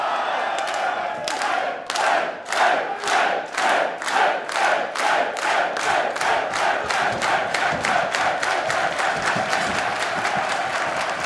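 A wrestling crowd on a night out in the northeast claps in unison, loud rhythmic beats that quicken steadily, over shouting and cheering that swell through the arena.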